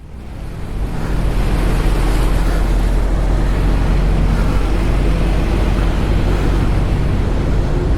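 Motorcycle riding through a water crossing on the Manali road near Panipat during a Zanskar ride: a loud, steady roaring rush of churned water and wind over a low engine rumble, building in the first second, then continuous, with no talking.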